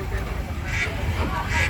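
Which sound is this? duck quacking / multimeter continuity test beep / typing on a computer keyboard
duck quacking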